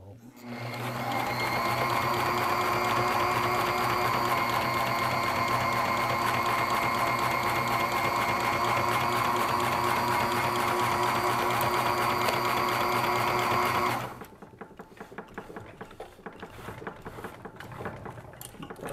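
A sewing machine stitches the galley end wall of a DIY teardrop camper, running steadily with a fast even hum and clatter for about fourteen seconds before stopping, followed by quieter handling noise.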